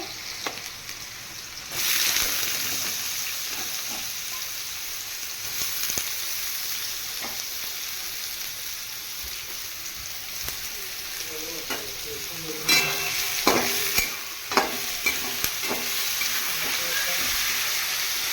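Carrots and chillies for pasta drop into hot oil and burst into a loud, close sizzle that keeps hissing, broken by scraping stirs and a few sharp clatters near the end.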